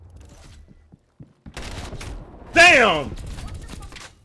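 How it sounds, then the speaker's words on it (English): Shotgun blasts in Call of Duty Cold War on the Moscow map: scattered quiet thumps early, then one loud close blast around midway, with someone talking and exclaiming throughout. "He had a shotgun. And blasted me too."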